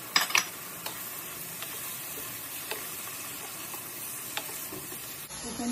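Boiled pasta tossed into a sizzling pan for garlic shrimp pasta gives a soft, steady frying hiss with a couple of brief stirring clinks at the start and faint scattered taps, fairly quiet and close.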